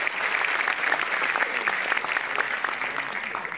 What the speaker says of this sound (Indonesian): Kita beri tepuk tangan yang meriah dari Jogja